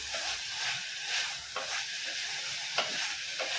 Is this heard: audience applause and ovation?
no